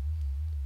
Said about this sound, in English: you're hearing the sine wave, so you're getting a smooth vibrato, smoothly going up and down in pitch